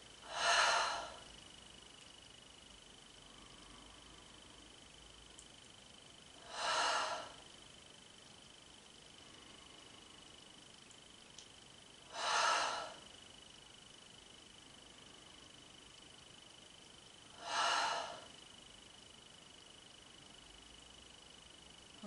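Slow, deliberate exhalations through the mouth during a Taoist meditation session, four soft breaths spaced about five seconds apart, close to the microphone in an otherwise quiet room.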